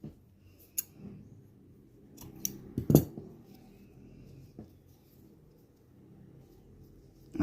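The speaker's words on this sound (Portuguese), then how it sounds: "já posso cortar meu fio" Scissors snip crochet yarn close by with a few sharp metallic clicks, the loudest cut near the middle, among quiet handling sounds and no talking.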